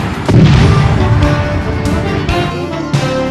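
Fireworks explode in a store advertisement, with loud booming blasts and crackling bursts layered over a dense, continuous roar and a couple of sharp new bangs later on.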